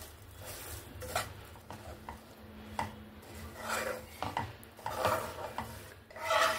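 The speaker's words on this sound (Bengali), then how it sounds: "এবার একটু নেড়ে দেব" A utensil stirring and scraping sugar as it melts toward caramel in a pan for semolina halwa, irregular rasping rubs and light clinks close by, quiet and uneven.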